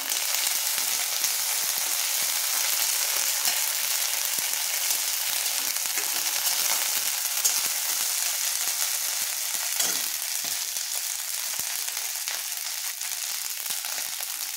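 Ginger paste frying in a pan with mixed vegetables, a steady close crackling sizzle that stays even throughout, with occasional faint stirring scrapes.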